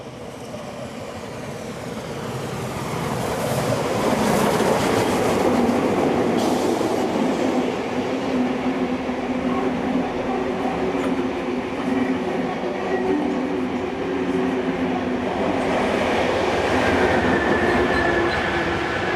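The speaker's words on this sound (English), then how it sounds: "we see the loco and its train passing through Illawarra returning to Sydney" A locomotive hauling its train rumbles past through Illawarra, the roar building over the first few seconds and holding loud and steady, with wheel clatter running throughout.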